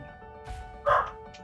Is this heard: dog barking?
yes